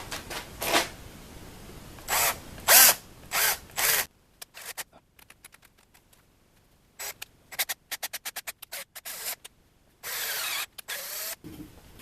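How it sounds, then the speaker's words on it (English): Short bursts of a power drill in a vise tapping threaded holes in aluminum whir on and off, separated by clusters of quick clicks and tapping, with brief quiet gaps between runs. "I think I'll just tap these with the drill in the vise here."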